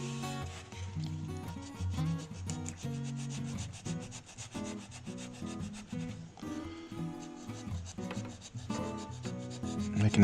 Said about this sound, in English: And just start sanding this down a little bit.